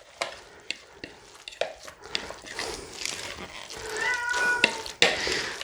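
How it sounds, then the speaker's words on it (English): A talkative cat named Sheldon meows a few times while wandering a kitchen where tuna salad is being stirred, short high cries near the end over scraping, clinking stirring noises and light sizzle. "I don't know what he's walking around meowing for"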